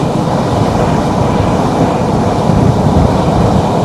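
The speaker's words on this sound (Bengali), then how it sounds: "এই মাত্র ট্রেন এসে পৌঁছালো" A train to Dhaka roars past at speed, a loud, steady rumble with rattling wheels and wind noise filling the whole stretch.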